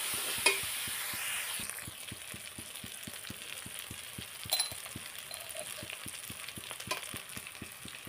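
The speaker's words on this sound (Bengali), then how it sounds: "এখন এটা ভালো করে একটু ভাজা করে নেব" Spices with turmeric powder fry in a pan with a steady, soft sizzle, while a spoon stirs them in a regular scraping rhythm with occasional clinks against the metal.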